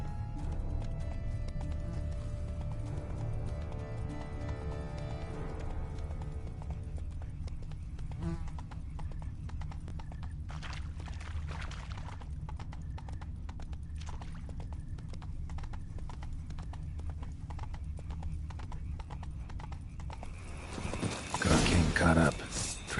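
Horse hooves clip-clop in a rhythmic gait, with an occasional snort or whinny near a wrecked cart on a road in The Witcher 3, set under a steady ambient game soundscape and voiced dialogue.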